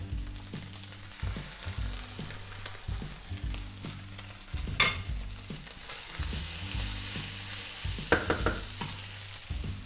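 Tomato paste sizzling steadily in a pan for chili con carne while a spoon scrapes and stirs in a repeated rhythm, with a louder burst of frying around the middle and a few sharper clatters toward the end.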